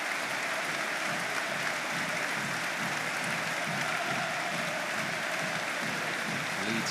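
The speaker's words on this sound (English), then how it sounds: "that's the prompt for fans around the ground to stand and applaud again" Football supporters in a stadium at a Cardiff City versus Leeds United match applauding, a broad, continuous wash of clapping from a large crowd that holds steady throughout.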